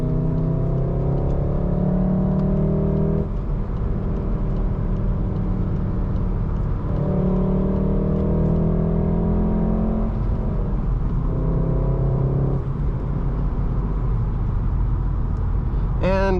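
A 6-speed manual Volkswagen Golf R accelerates on the road, its engine droning and rising through the gears with steady wind and road roar heard from inside the cabin, loud and continuous, with a voice talking over it.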